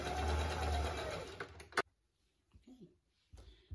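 A sewing machine zigzag stitching a skirt onto a custom dance costume, running as a fast steady whir for about a second and a half, then stopping with a sharp click and quiet handling noises.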